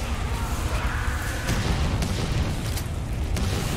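Grenade launcher blasts go off in a video game as a loud, sustained rumble, with a few sharp bursts landing in the second half over a continuous low boom.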